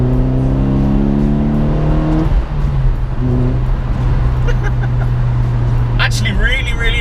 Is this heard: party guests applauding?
no